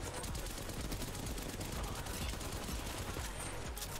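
Gunfire in Apex Legends crackles in dense, rapid bursts, a steady chatter of shots heard fairly faint and distant from start to finish.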